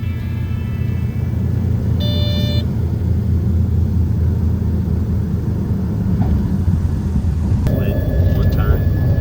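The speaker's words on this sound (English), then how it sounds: "We started our approach into the tiny airstrip, which was actually pretty fun." A small plane approaches and lands on a tiny forest airstrip 2,000 feet long, with a loud, steady engine and wind rumble heard close from inside the cabin, plus a few brief tonal beeps.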